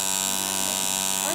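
A small homemade electric motor runs with a steady, high-pitched electric buzz and hum, close and constant, while faint voices are heard in the background.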